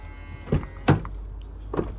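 A 2024 Toyota Revo pickup's lock clicks and chirps in short bursts, followed by a soft electric whirring as the side mirrors fold out, heard close by.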